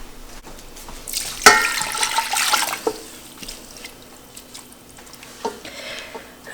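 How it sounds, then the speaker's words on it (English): Two cups of water pour into a pot of lemon ginger marmalade with sliced lemons, making a brief rushing splash followed by fainter trickles and drips, close and alone. "And now I'm going to add 2 cups of water."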